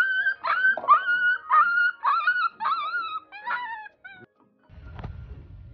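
A small, wary black dog howls and whimpers close by in a series of high, wavering wails and yips, then falls quiet before a brief low rustle.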